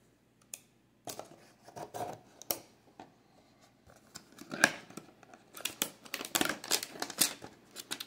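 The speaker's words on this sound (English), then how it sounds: "We will rip them open now and see what we get." Trading card hanger box packs being ripped open, with crinkling, tearing plastic wrap and paper, irregular close crackles growing busier toward the end.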